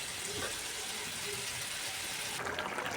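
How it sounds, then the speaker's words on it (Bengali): Water boils in a pan for fish curry, giving a continuous close bubbling hiss with a slight surge near the end. "দেখো জলটা ফুটে উঠেছে"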